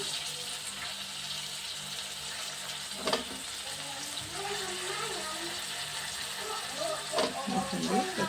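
Green chilli and brinjal pieces fry in a pan with a steady hiss and crackle throughout, a few louder sizzling bursts, and soft voices murmuring over the cooking.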